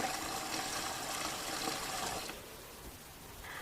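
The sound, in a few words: water filling a pot of potatoes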